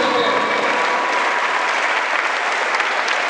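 Steady, dense applause from a crowd cheering Haiti's national football team, continuous and fairly loud for the whole stretch with no pauses or voices standing out.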